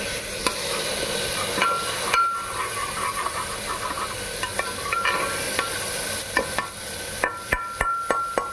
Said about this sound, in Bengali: দিলাম দুটো শুকনো লঙ্কা, দিয়ে এটা ভালো করে ভেজে নেব।